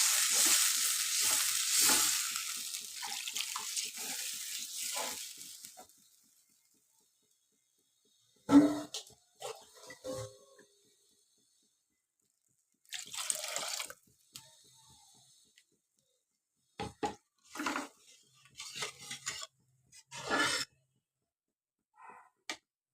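Water hisses and sizzles loudly as it is poured into a hot pan of tangra fish curry, fading over several seconds, then quiet stirring and scattered spoon scrapes follow.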